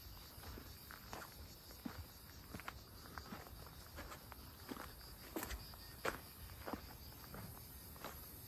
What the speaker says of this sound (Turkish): çekirgenin güzel sesliyor